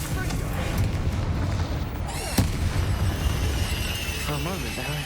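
Confringo blasting spell going off in Hogwarts Legacy amid continuous battle noise, with a sharp crack near the middle over dense rumbling booms and game sound, a voice shouting over it.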